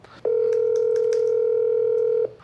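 A telephone dial tone sounds as a call is placed, one clean, steady, loud beep held for about two seconds, then cut off, with no one talking.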